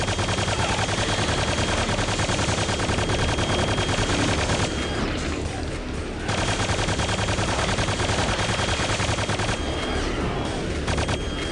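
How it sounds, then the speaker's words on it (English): A Quake 2 chaingun roars in rapid, continuous fire, loud and unbroken for most of the stretch, pausing only briefly twice before resuming its relentless rattling burst. "Chain gun."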